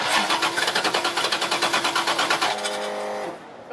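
A 1967 Ford Mustang Shelby GT500 Eleanor engine cranking over, a fast rhythmic chugging of the starter lasting nearly three seconds, close and loud, then fading into a short whine before stopping without catching.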